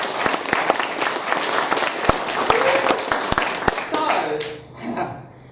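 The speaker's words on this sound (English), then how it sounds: "Give yourselves a round of applause." An audience at the close of a political speech breaks into sustained applause, with a few sharp nearby claps standing out before the clapping thins and fades away.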